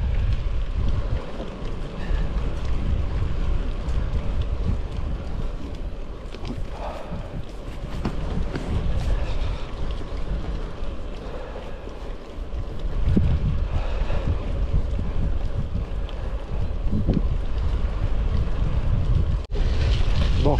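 Strong gusting wind buffets the microphone of a rider on a Genesis Croix de Fer gravel bike fitted with Sensah SRX Pro gearing, a loud continuous roar over the whole stretch with no talk.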